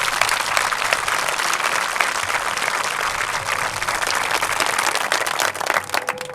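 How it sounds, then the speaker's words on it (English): Steady, dense applause from a baseball crowd at a pre-game ceremony honoring the US Military All Stars in Chillicothe, Missouri, filling the whole stretch at even volume before thinning slightly at the end. "So we get a round of applause for them real quick."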